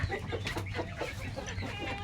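Rhode Island Red chickens clucking close by in soft, repeated low clucks, with a faint rooster-like call among the flock.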